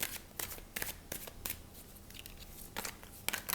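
Tarot cards are shuffled for a weekly horoscope reading, giving close, soft papery riffles and quick flicking bursts in an uneven rhythm, with no voices.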